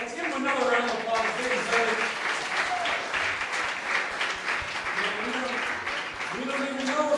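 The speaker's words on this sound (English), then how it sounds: "Let's give them another round of applause." An audience gives another round of applause, a sustained mass of clapping with lively voices and chatter layered on top for several seconds.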